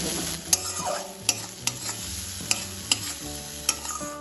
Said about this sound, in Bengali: এখন আমি এর মধ্যে দিয়ে দেবো মশলার পেস্ট ভালোভাবে তেলের সাথে এটা নাড়াচাড়া করে